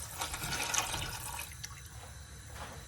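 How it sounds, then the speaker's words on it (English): Tap water runs steadily into a cooking pot for boiling, a continuous close splashing fill that thins slightly toward the end, with no talking. "fill the water"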